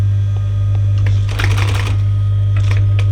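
A machine hum holds steady while a sewing machine stitches a campervan cushion border with piping, giving a short rapid burst of needle clatter in the middle, with a few lighter taps near the end.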